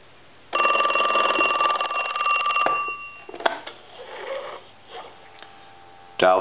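A Telstar telephone bell rings loudly and continuously for over two seconds, then gives way to quieter handling clicks and rustles, with a brief burst of ringing returning at the very end.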